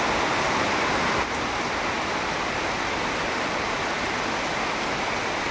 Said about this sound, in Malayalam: കാണിച്ചു തരാം മഴ ഞെരിച്ച് പെയ്യ രാവിലെ തുടങ്ങി